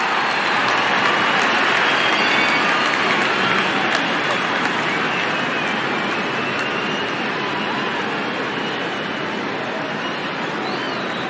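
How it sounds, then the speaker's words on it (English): Large cricket stadium crowd at a T20 World Cup match between Afghanistan and Ireland, a dense, continuous roar of applause and cheering that holds steady and loud throughout, with no clear voices standing out. "There's such a wonderful crowd in to watch their favorite players"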